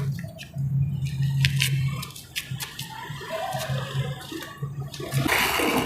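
Water pours and splashes into a cement mix for shaping reused concrete, a steady gushing and sloshing that runs throughout, loud and close, with no voices.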